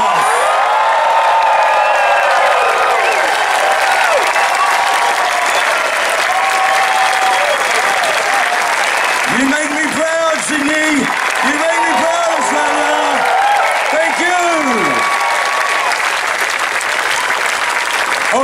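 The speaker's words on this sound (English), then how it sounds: "Can I get one massive cheer for Australia's only gay Winter Olympian" A big outdoor crowd at Sydney's Mardi Gras Fair Day cheers and applauds loudly and continuously, with whoops and shouts rising over the clapping, and a run of pitched, swooping yells breaking out partway through.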